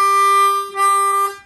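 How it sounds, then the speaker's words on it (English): Ten-hole harmonica moving from hole two draw to hole three blow, a sustained reedy note with a brief dip as the breath changes, then continuing and fading, close and solo. "If you go from hole two draw to hole three blow,"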